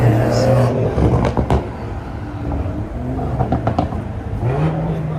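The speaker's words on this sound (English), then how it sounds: "There's always so much traffic on this trip" Steady road traffic on the Las Vegas Strip, with cars driving and revving close by in a continuous rushing wash, under a voice talking over it.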